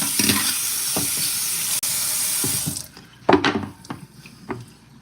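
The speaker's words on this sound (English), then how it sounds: "We're gonna stir the meat." Beef chunks being stirred in a pan for a beef, rice and salad dinner, a steady wash of sizzle for about three seconds, then quieter sizzling broken by a few sharp utensil scrapes and clanks against the pan.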